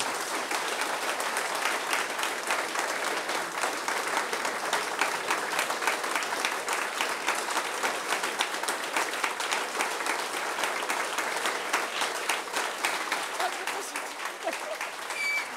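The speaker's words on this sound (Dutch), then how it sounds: "geef ze een heel hard applaus dat ze dit fucking Den Haag kunnen horen" Sustained, dense applause from a large crowd at a farewell event in The Hague, loud and unbroken for over fifteen seconds with a few cheers mixed in.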